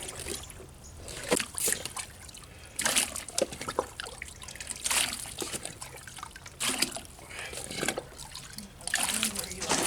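Water trickles and splashes over rocks in an outdoor rock water feature under construction, arriving in irregular pouring bursts of spattering flow, with people talking nearby.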